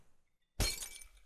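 Glass breaks in the Happy Wheels video game: after a near-silent moment, a single loud crash with tinkling shards that decays over about half a second.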